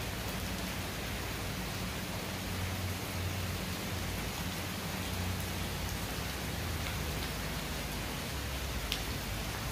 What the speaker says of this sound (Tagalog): malakas pa yung ulan